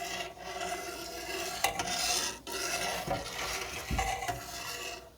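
A utensil keeps scraping and swishing through curds in a pot while Camembert-style cheese is being made, a close, steady rasping stir with occasional knocks against the pot and no talking.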